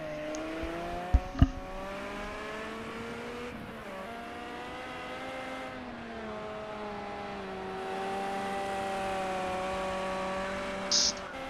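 A race car engine in a racing video game screams at high revs as the driver pushes hard on an out lap in a six-car lobby. The steady, close whine rises and falls through gear changes, with no talk over it.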